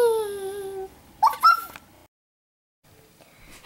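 A short high whine from a puppy in the Royale High video game, rising and tapering over about a second, then a couple of brief yelping squeaks before the clip falls silent.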